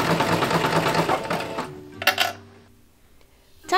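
Sewing machine stitching a corset, a busy close mechanical whir for about a second and a half, then quieter clicks and handling sounds.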